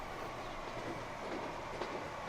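High-speed train in the Transport Fever video game doing about 100 miles per hour, a steady broadband rolling rumble with faint rhythmic clatter that holds constant and close throughout.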